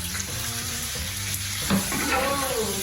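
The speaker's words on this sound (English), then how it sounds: "You're basically going to saute this for about 15 minutes on about medium heat." Leeks sauté in a pan over medium heat, sizzling loudly and steadily up close, with faint stirring scrapes and a brief clatter partway through.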